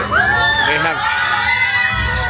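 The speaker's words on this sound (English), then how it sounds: "Screaming because they're all excited." Excited children scream together on a theme park ride at Tokyo DisneySea: a dense, continuous crowd of high shrill squeals and cheers, loud and close, holding steady throughout.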